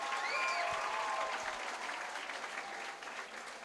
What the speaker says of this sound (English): Can you give yourselves a huge round of applause for making this happen?